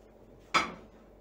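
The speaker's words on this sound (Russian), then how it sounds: "Сейчас сковородку поставлю." A frying pan is set down with a single sharp metallic clank in a home kitchen, brief and close in an otherwise quiet room.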